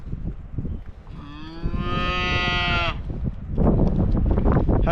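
A cow on a farm, in the middle of calving, lets out one long, loud moo lasting a couple of seconds, over steady outdoor background noise and rustling.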